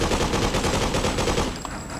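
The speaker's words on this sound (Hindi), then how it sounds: "यहाँ पर खड़े होके उड़ेंगे थोड़ी बहुत गोलियाँ" Rapid automatic gunfire rattles in a dense, continuous burst in the video game Freedom Fighters, loud and close, easing slightly toward the end.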